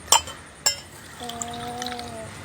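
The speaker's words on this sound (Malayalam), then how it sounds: "ഗ്ലാസ്സിലൊന്ന് ഒഴിച്ച് കൊടുക്കാം" Two sharp glass clinks ring out, then water pours into a glass with a thin, steady liquid stream and a faint ringing tone. It is close and fairly loud, and no one speaks.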